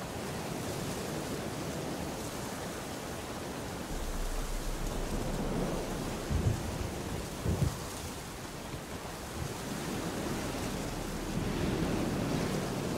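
Steady hissing rain from a thunderstorm in The Witcher 3 fills the scene, with a few low rumbles of thunder rising out of the downpour midway through.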